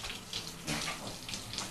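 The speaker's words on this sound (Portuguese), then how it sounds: "a água você deixou escorrendo ali" A tap left running in a home, giving a steady broadband hiss and splash of flowing water that holds throughout at close range, with no talk.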